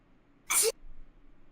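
A single sharp sneeze, brief and close, in an otherwise quiet moment.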